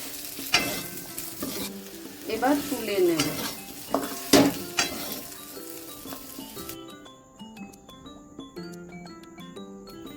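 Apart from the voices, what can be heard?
prawn-oil-fried potatoes sizzling in a wok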